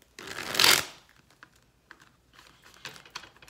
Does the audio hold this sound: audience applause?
no